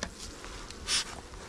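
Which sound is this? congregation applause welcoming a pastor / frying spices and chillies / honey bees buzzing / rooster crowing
honey bees buzzing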